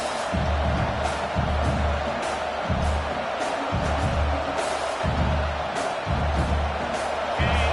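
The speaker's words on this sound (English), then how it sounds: "this home crowd is fired up and ready to make a difference today" A fired-up home crowd at a college football game, Nebraska at UCLA, fills the stadium with a constant loud roar, with rhythmic low thumping pulses running underneath.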